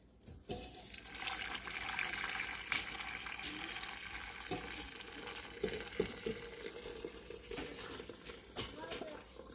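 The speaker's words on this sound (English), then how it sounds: "pouring the water in for me" Hot water poured into a pot while cooking ham, a steady close liquid pour running several seconds with clinks and rustles, while people talk over it.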